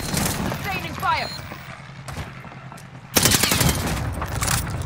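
Call of Duty Warzone gunfire comes in a few sharp bursts, with a loud automatic volley starting partway through. Radio chatter and in-game voices talk over it.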